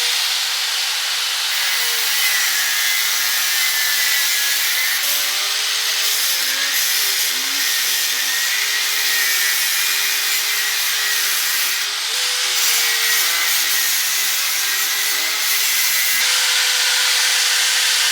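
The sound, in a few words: cutting a Yoshimura motorcycle exhaust pipe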